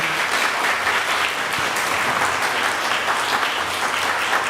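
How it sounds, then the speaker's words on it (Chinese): A church congregation claps together during a Mandarin worship service, filling the room with continuous, even applause that holds from start to finish with no voices above it. "我们请弟兄姐妹来鼓掌"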